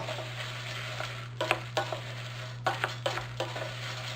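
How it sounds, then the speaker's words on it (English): Oats stirred into melted butter in a pan: a soft, steady sizzle with a short run of quick scraping spoon strokes, close and quiet, without any speech. "We're going to add our oats. We want to get them kind of damp in the butter."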